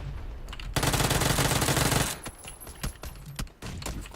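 Automatic weapon fire in the video game PUBG, a sustained rapid burst of gunshots lasting over a second, followed by several scattered single shots and clicks at close range.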